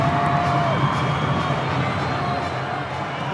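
A wrestling crowd in Mexico City roars and shouts in a steady, dense wash of voices, loud and continuous without distinct peaks.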